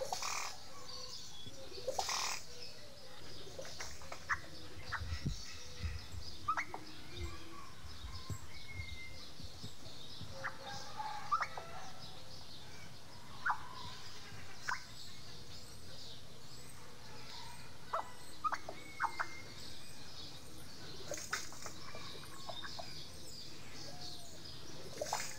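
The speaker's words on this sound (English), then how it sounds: "The oropendula makes a variety of sounds." Oropendola calls from a San Diego Zoo computer game: assorted odd whistles, chirps and liquid notes scattered over a steady ambient bed, moderately loud, with occasional sharper bursts and no talk.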